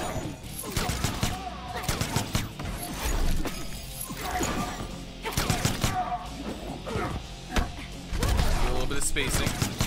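Rapid bursts of gunfire from a character in the Mortal Kombat X fighting game during a tournament match, loud and dense, mixed with impact crashes and hits in continuous repeated volleys.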